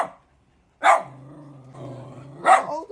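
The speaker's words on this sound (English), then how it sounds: "think they're barking at my mom though." Shih tzu dogs bark twice, close and sharp, with a low growl between the barks and no voices.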